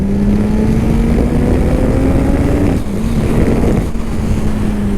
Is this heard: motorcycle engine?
yes